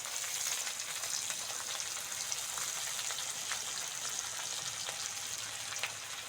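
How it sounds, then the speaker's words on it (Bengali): Ginger-garlic paste frying in hot oil in a pan for a Bengali moong dal with prawns, giving a steady close sizzle with fine crackling pops throughout and no voices. "আদা রসুন বাটাটা দিয়ে দেবো।"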